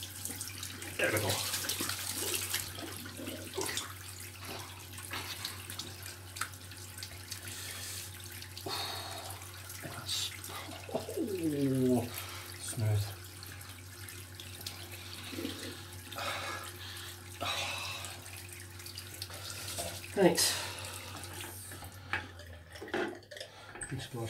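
Tap water runs steadily into a bathroom sink while it warms for a double-edged shave with a Parker 22R razor, a continuous close splashing hiss with a few clinks and handling noises, and no talk.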